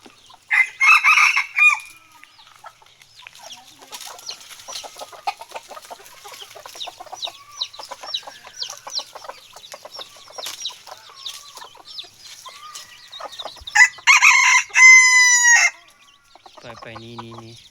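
A rooster crows loudly near the start and again near the end, with scattered soft clucks and bird calls between in a quiet outdoor setting, after being let out following about two months of confinement.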